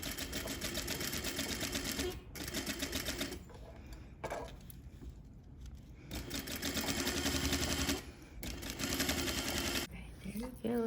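Sewing machine running fast while top stitching fabric, a loud rapid mechanical chatter in several runs separated by short pauses, with a voice speaking during the breaks.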